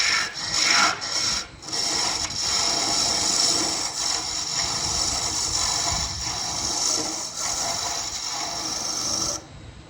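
A spindle gouge cuts a wooden goblet spinning on a lathe, producing a steady, close scraping and rasping hiss with brief gaps where the tool lifts off the wood.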